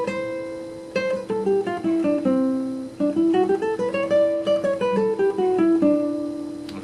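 A guitar plays a do-re-mi major scale note by note, climbing step by step and then coming back down, each plucked note clear and close with an even rhythm and no talking.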